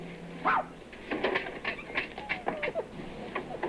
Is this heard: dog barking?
yes